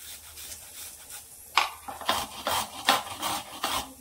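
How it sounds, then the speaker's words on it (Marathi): A carrot is grated by hand in a series of rough rasping strokes, each a short scrape repeating at an uneven rhythm, close and fairly quiet. "यावर हे गाजर आपल्याला किसून घ्यायचे"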